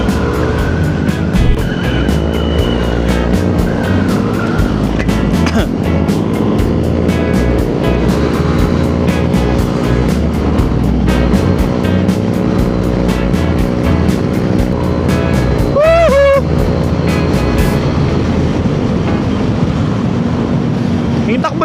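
A Yamaha Aerox V3 scooter rides at speed on a Manila to Dingalan trip, its engine droning steadily at high RPM with wind rush throughout and a brief rising whine near the end.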